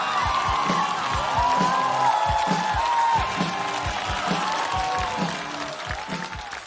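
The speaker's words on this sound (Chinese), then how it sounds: "我们掌声听听怎么回事，掌声欢迎杨仔儿。" A stand-up comedy audience applauds a newcomer onto the stage, with steady clapping, some cheering and a voice over it, while music with a repeating beat plays underneath.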